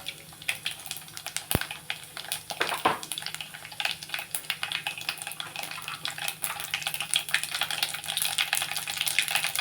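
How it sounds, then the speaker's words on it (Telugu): Mustard seeds and cumin crackle and sizzle in hot oil in a pan, sharp scattered pops and spitting over a steady frying hiss, with occasional utensil clinks; no talk. "ఇందులో మనం కొన్ని ఆవాలు వేస్తాను కొంచెం జీలకర్ర వేస్తున్నాను"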